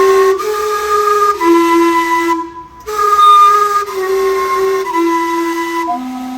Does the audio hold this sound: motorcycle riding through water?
no